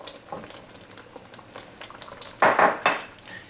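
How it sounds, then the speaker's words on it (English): Spoon scraping and clinking in a pot of peach jam as sugar is stirred in, a soft rustle and two louder clattering bursts near the end, close and without talk. "Give that a quick stir, and we're going to add in 5 cups of sugar."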